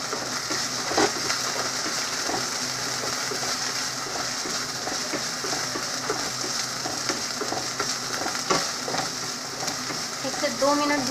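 Ginger garlic paste frying in a pan gives a steady, bright sizzle with occasional spatter and stirring scrapes, continuous and close throughout.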